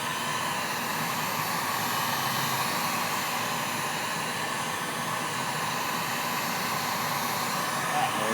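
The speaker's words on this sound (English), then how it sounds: "with a heat gun, you probably know this, but just keep it moving" A heat gun warms a rigid vinyl rubrail during a Boston Whaler restoration. It makes a steady, close, loud blower hiss that stays even from start to finish, with no talking.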